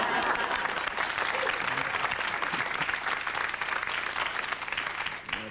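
Dense, sustained applause from a large stand-up comedy audience, loud and steady throughout with no pauses.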